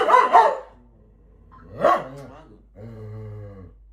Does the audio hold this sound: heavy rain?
no